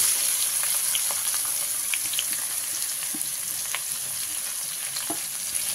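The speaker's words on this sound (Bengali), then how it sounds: "পেঁয়াজটা দিয়ে ভালো করে ভেজে নিই।" Onion frying in hot oil with whole cumin and bay leaf for a Bengali chicken and potato curry, a dense continuous sizzle with faint crackles, close and steady throughout.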